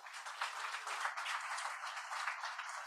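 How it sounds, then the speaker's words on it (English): Audience at a memorial lecture applauds for young participants, steady dense clapping from many hands, moderately distant and fairly quiet, continuous for the whole stretch without talk. "Let's clap for the young people."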